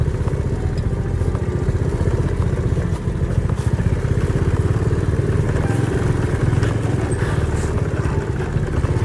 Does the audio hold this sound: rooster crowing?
no